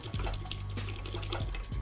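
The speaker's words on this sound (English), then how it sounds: "We can also just flush out any little bits that are on the shower screen." Water flushes through the shower screen of an espressoDECK espresso machine, a steady close rushing stream with a slight rise at the end and no talk.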